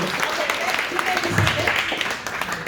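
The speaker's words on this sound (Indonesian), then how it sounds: "Tepuk tangan buat Tuhan kita." A church congregation at an anniversary service claps and applauds together while a voice keeps speaking over the noise.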